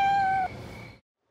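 A cat meows once, loud and close with a drawn-out tonal cry that fades away, followed by near silence.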